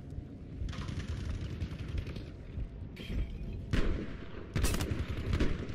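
Continuous battlefield gunfire in Battlefield V Firestorm, dense rumbling shots and booms with several sharper bursts near the end, loud and close with no talk.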